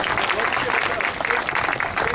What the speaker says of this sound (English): A round of applause for both of our panelists.